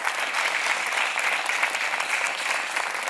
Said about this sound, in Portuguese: Um aplauso para o imortal Leonard Bernstein.